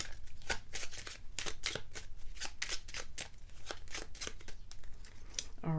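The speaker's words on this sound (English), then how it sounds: "We're going to draw also a chakra love card for you." A deck of oracle cards being shuffled up close, a fast run of crisp, papery riffling snaps repeating evenly for several seconds, without any talking.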